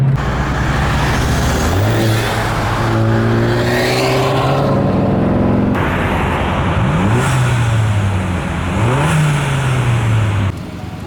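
A Volkswagen MK7 GTI engine with a CTS Turbo cold air intake revs hard several times, each rise climbing and falling in pitch, loud and close, with a steady rumbling idle underneath.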